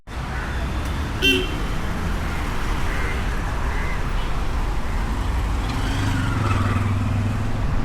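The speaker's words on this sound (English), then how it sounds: "Quite busy streets, as you can see in the morning, lots of tuk-tuks, lots of cars" Busy morning street traffic in Colombo, Sri Lanka, with tuk-tuks and cars passing, a steady roadway rumble with a short horn toot early on and engines swelling nearby toward the end.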